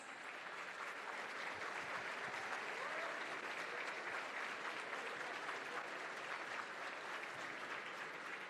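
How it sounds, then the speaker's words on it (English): Audience at a formal black-and-white ball and business awards event applauds, a sustained, dense wash of clapping that holds steady throughout, with faint crowd murmur beneath. "Give them a huge round of applause."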